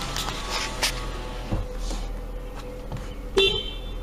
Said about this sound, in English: Little puny little horn, but it's okay.